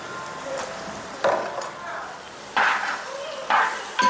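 Large curry-lemon pickle for Onam stirred in a pan, heard as faint, intermittent scraping strokes at irregular intervals over a quiet background.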